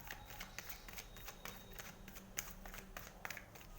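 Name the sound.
shuffling and drawing tarot cards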